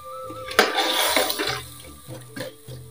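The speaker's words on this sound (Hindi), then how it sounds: "अब इसमें थोड़ा सा पानी ऐड करेंगे" Water poured into a pressure cooker pot, a short splashing burst that swells and then trails off into light trickles and drips, close and fairly loud.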